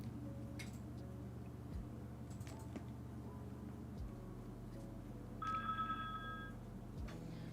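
A telephone rings faintly in the background during a muted stretch, a short electronic trill heard once under steady low hum and scattered soft clicks.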